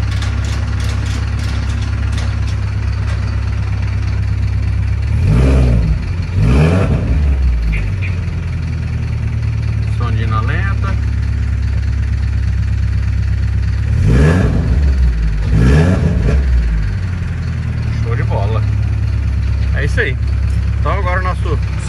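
A Renault Sandero RS with a wideband sensor fitted idles with a loud, steady engine drone. Several revs swell at intervals above the idle, and someone speaks now and then over the running engine.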